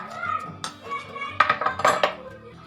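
A spoon clinks and scrapes irregularly against a bowl while carrot and chili pickle is mixed with lemon, giving bright metallic taps in quick uneven clusters.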